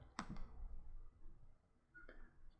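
Computer mouse clicking during an SQL tutorial: a sharp close click near the start, a quieter follow-up tick, then another faint click later against near silence.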